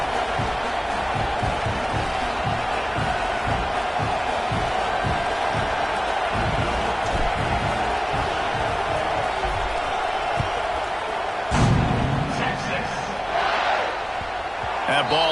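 An American football stadium crowd before a kickoff: a steady, broad roar of many voices that holds at a constant level, with a brief louder swell near the end.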